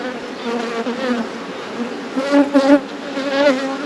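Honeybees buzz close up during a hive inspection, with a dense, wavering hum that swells and fades as individual bees pass near, loudest around the middle, with no talk.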